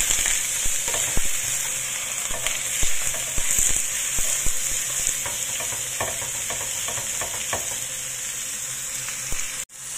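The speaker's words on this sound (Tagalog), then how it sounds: "i-fry lang natin yan hanggang sa maging brown yung karne" Pork belly frying in a pan until brown, a loud, close, steady sizzle with frequent scraping and stirring clatter from a utensil, cut off abruptly at the end.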